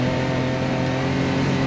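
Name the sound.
UTV engine driving in high gear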